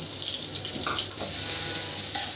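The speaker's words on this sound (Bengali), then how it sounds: "পেঁয়াজ ও কাঁচামরিচ কুচি করে দেওয়া, নাড়াচাড়া চলতেছে।" Chopped onion and green chilies sizzling in hot oil while being stirred, a steady bright hiss with faint scraping of the spoon, close and continuous.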